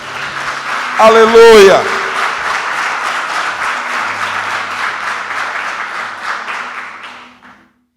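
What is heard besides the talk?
congregation applauding the Lord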